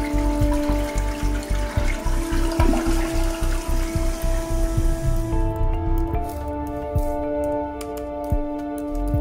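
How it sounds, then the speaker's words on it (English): A toilet flushing a cockroach down, a loud rushing swirl of water with rhythmic gurgling pulses that fades into a quieter trickle and refill near the end. "Flushing a cockroach down the toilet will not kill it."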